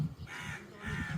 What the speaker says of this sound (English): There is crow. Crow. Okay. That's crow.